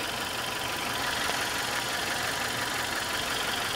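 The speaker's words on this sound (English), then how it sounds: "Now it's starting to idle correctly." A 1996 Toyota Corolla's 1.6-liter 4AFE engine with automatic transmission idles after a cold start, giving a steady, close, continuous hum with a faint rough tremble and no voices.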